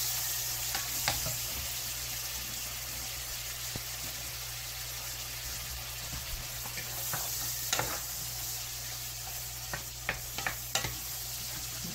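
Two pounds of shrimp sizzle in a hot iron skillet, a steady, dense frying hiss with occasional sharp pops and stirring clicks, fairly close and with no talk.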